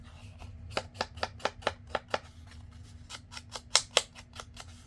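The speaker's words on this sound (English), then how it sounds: "And I'm going to round my corners on the bottom." The bottom corners of paper tags being rounded: a run of about fifteen crisp, close clicking snips in an uneven rhythm, with a short pause midway, in a quiet room.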